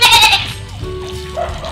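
A goat bleats loudly up close, a short wavering cry, followed by softer bleating from other goats nearby as newly arrived goats are washed and disinfected.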